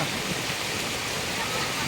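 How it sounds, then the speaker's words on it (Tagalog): A flooded river overflowing its banks roars as a steady, dense rush of churning water, loud and close, filling the whole moment without a break. "ang ilog, umapaw na"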